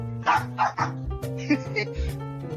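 A dog barks and yips several times in quick bursts, loud and close, with a voice speaking over the barking.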